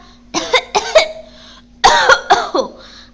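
Two bursts of harsh, loud coughing nearby, a few hacking coughs each, separated by a short pause.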